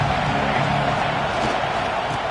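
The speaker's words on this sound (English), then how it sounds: "This crowd bringing the energy and noise early." In a College Football 26 game, a stadium crowd roars in a dense, continuous wash of noise, loud and steady with no distinct voices.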